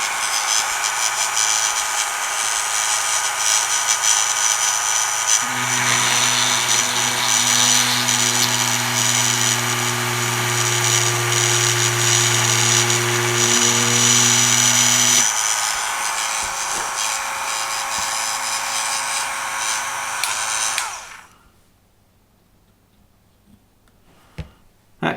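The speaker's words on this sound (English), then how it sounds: "I have marked off the depth that I want on the drill with a bit of tape, so I won't drill any further down than that." A small hand or power drill bores a hole into a wooden part of an Amati 1/80 scale Endeavour model ship, a steady whirring buzz with a deeper motor tone in the middle stretch, running continuously before stopping abruptly near the end.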